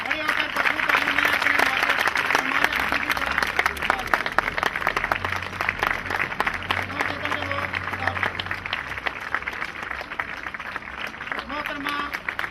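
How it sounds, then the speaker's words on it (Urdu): Sustained applause from an audience at an annual educational awards ceremony, greeting a female divisional director as she is called to the stage, with dense steady clapping and some crowd noise lasting throughout. "کھڑے ہو کر بھرپور تالیوں میں"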